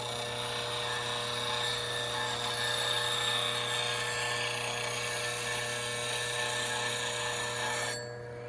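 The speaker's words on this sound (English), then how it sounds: "So I'm going to have to do quite a bit of grinding at how I set it up to get my full edge on that at this angle." Powered sharpening grinder working a blade bevel, a steady high whining hum with a constant tone, loud and close, running evenly before cutting off near the end, no speech.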